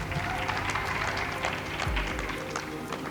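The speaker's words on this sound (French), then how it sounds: "Bravo, on l'applaudit." Audience applause for a contestant at a school quiz match between two lycée teams, a steady broadband patter of many hands sustained throughout, fairly loud, with a voice briefly audible underneath.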